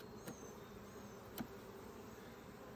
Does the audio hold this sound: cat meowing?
no